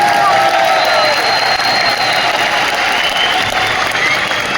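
Audience at a direct selling company's anniversary gathering applauding: loud, dense, sustained clapping from a crowd, with faint cheering mixed in throughout.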